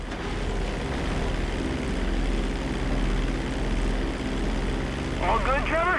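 Continuous drone of an airplane engine in flight in Grand Theft Auto V, loud and steady with a low rumble throughout, a voice briefly speaking near the end.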